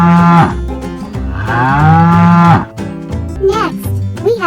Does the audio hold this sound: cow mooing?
yes